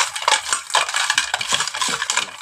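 Raw crab pieces tossed with turmeric powder and salt in a bowl for a crab and kulekhara leaf dish, giving close, rapid clicking and clattering of hard shells against each other and the bowl, with no talking.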